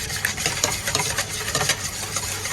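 A spoon stirs a caramel pudding mixture with water in a bowl, making a continuous wet scraping and swishing with quick repeated strokes, close and clear with no talking.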